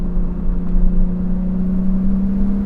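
Nissan R32 Skyline engine pulling under acceleration, a steady, close-up drone that rises slightly in pitch and is heard alone without talk.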